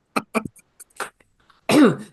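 A few short, sharp coughs and throat-clearing sounds up close, followed by a longer rough, voiced cough.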